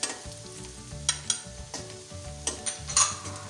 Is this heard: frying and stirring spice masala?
yes